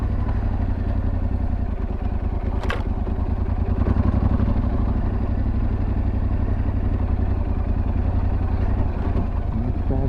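A 2023 Yamaha Tenere 700 rides off-road, its engine giving a loud, steady close drone with a brief rattle partway through.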